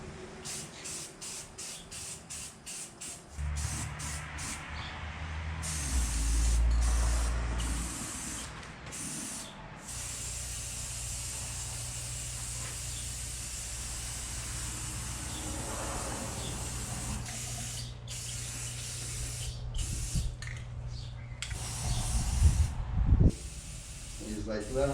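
An aerosol spray can lays a black top coat on a frame in a shop, giving long, close, steady hissing bursts with short breaks between them and some low rumble underneath.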